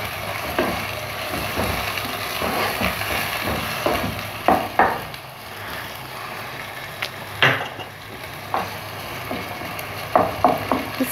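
Minced keema sizzling and frying in a pan with ginger garlic paste just added, a steady loud hiss broken by repeated scraping stir strokes and clacks of the spoon against the pan.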